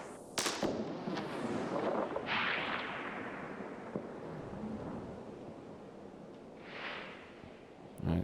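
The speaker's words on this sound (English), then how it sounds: "it makes it interesting and usable for the gunshot sound that I intended it for" A designed, compressed, slightly dirty gunshot sound effect for a game weapons system: several sharp blasts, each with a sweeping, decaying tail, plus a final crack at the end.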